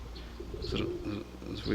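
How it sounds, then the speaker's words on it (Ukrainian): Soft, low cooing of a female rock dove close by, a few muffled hoots against faint background noise and brief chirps. "Це голубка, до речі, виявилась."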